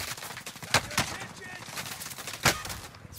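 A few distinct gunshots ring out in a shooter video game, three sharp cracks at uneven intervals over a steady, fairly quiet background.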